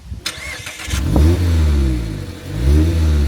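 A 2025 Mazda MX-5 Miata 35th Anniversary sports car engine cranks over with a few starter clicks, then catches and revs up loudly twice with a throaty bark, close by.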